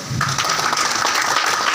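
Applause from a seminar audience at a leadership training event in Bathinda, a dense continuous patter of many hands clapping that holds steady and fairly loud throughout, with no voices over it.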